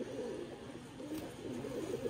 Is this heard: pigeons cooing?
yes